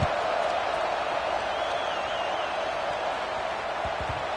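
A subdued stadium crowd murmurs steadily in a Madden NCAA football video game, a low, continuous hush of distant fans with no cheering bursts.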